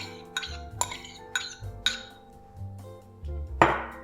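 Soaked dried fruit stirred into a vegan custard mixture, a spoon clinking against the bowl in several irregular sharp taps, close and alone.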